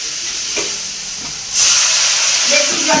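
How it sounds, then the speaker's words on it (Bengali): Spices frying in a wok give a steady close hiss, which swells louder about halfway through. "আমার মশলা ভাজা আমি একটু জল দিই নাহলে তলাটা আবার ভরে যাবে"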